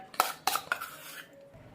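A spoon stirring besan mixture into melted soap base, giving three quick metallic clinks against the vessel followed by a short scrape, close and clear with no talking.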